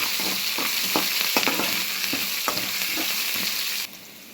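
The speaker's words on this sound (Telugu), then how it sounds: "ఇలా ఇవి వేగినాక 2 పచ్చిమిరపకాయలు, కొంచెం అల్లం ముక్కలు వేసి వేయించాం." Green chillies and ginger pieces fry in hot oil for coconut rice, giving a continuous close sizzle broken by scattered crackles and stirring knocks.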